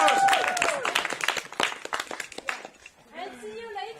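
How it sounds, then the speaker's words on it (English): Group applause and cheering outdoors on a mountain excursion, scattered close claps mixed with shouting voices, tapering off before speech resumes. "Maybe we give a big applause to Daniel."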